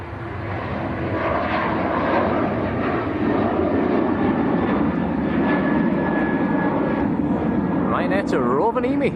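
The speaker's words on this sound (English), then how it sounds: "Ryanair on the roll." A Ryanair jet airliner rolls down the runway for takeoff at Manchester Airport, a loud, continuous roar of engine noise that builds and holds throughout, heard from the spotting area with no one speaking.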